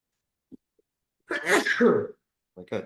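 A single loud, close sneeze bursts out, followed a moment later by a short vocal sound.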